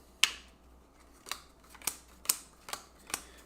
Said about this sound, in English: Let's get these and let's shuffle.